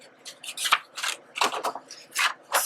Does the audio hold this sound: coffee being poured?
no